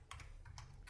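Quick, light clicks of a computer keyboard as an IP address is typed into a network configuration command, a few close, soft keystrokes in a short burst.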